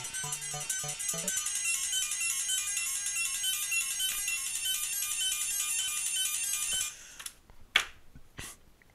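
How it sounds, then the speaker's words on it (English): An electronic alarm ringtone chimes in a fast repeating pattern for several seconds, then cuts off, leaving a few faint clicks and rustles. "That was my alarm going off."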